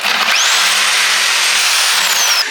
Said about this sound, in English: Just grab the Sawzall, cut the tire.